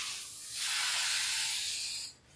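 A spray bottle misting liquid across a screen-printing screen, one sustained hissing spray burst of about a second and a half, close and fairly loud, then cutting off.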